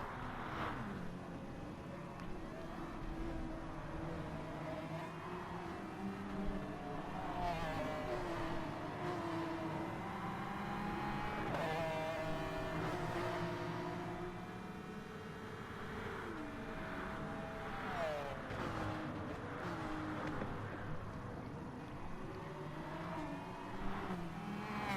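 Engines of an F1 car and a Porsche 911 racing at Interlagos in Gran Turismo Sport drone continuously with shifting revs and whine, steady and fairly faint throughout, with no talking.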